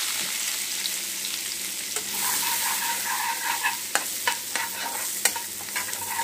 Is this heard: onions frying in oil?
yes